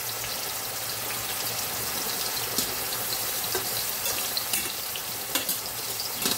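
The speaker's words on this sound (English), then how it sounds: "Let me wash this little spatula off, y'all." Water runs steadily from a kitchen tap while a small spatula is rinsed under it, with a few light knocks and clinks over a soft background sizzle.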